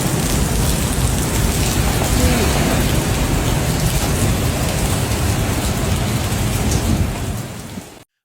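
Heavy rain pours down with roaring wind during a typhoon in Taiwan, a loud, dense and continuous wash of noise that holds steady throughout before fading away at the very end.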